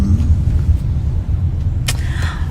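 Traffic in a late-afternoon jam rumbles steadily, a continuous low engine and road drone, close and fairly loud, with a brief brighter passing sound near the end.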